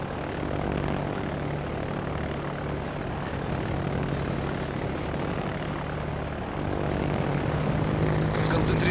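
A fighter aircraft takes off from a carrier in World of Warships, a steady loud propeller engine drone filling the whole span without pause.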